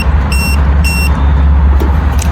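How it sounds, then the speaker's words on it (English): Horn of a 2015-2018 Subaru Outback 2.5i sounding during a remote start test: two sharp, evenly spaced honks, then fainter short chirps, over a constant loud background hum. "Should honk 6 times."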